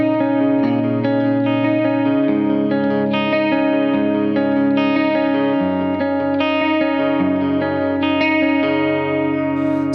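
Electric guitar plays the verse riff of a song, a steady run of repeated picked notes with light effects, loud and continuous throughout with no talking.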